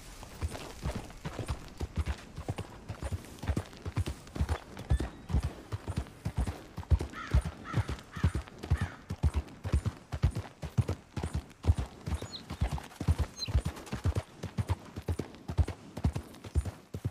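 In the Red Dead Redemption II video game, a horse's hooves clip-clop at a steady walking gait, soft and even, continuing throughout with light background game ambience.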